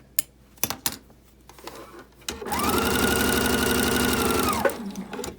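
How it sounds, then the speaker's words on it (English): After a few scattered clicks, a sewing machine runs steadily for about two seconds stitching a T-shirt quilt seam slowly over pins, with a close, even mechanical whir that stops abruptly. "I do sew slowly over the pins, but I do sew over pins."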